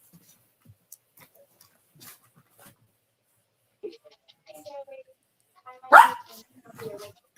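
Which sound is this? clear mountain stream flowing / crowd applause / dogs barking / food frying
dogs barking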